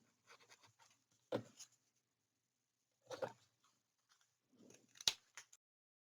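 Scissors snip paper flowers for a craft album in a few short, crisp bursts of cutting and rustling, separated by quiet pauses, close up with no talk.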